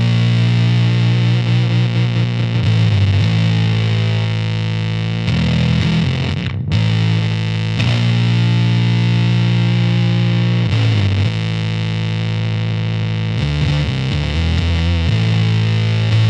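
A heavily distorted electric guitar through a Muff-style fuzz pedal with boost plays thick, saturated fuzz chords and riffs at loud volume, sustaining and shifting with a brief cut near the middle.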